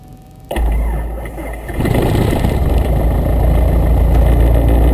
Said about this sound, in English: You just started your first airplane engine.